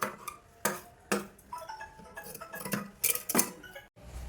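Sharp scissors snipping through blouse cloth to even up the back piece, a series of separate crisp cuts with short pauses between them, close and alone.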